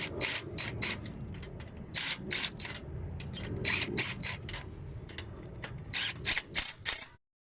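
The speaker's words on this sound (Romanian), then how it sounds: "Pun înapoi piulițele și încerc să strâng cu pistolul, cu tubul de 13." An impact wrench fitted with a 13 mm socket tightens nuts on a vegetable greenhouse arch outdoors, firing in rapid bursts of sharp hammering rattles separated by short pauses, close and fairly loud, then stopping abruptly.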